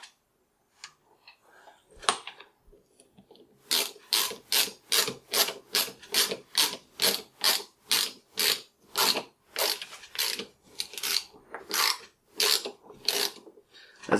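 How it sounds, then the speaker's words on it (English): A driver with a 5/32 bit screws a screw into a shotgun buttpad, a rapid run of rhythmic ratcheting clicks, close and steady, after a few scattered handling knocks. "Let's just screw that right in there."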